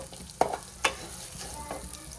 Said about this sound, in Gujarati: ઘી ગરમ થઈ ગયું છે હવે આપણે એમાં વાડા એડ કરી દેવાના છે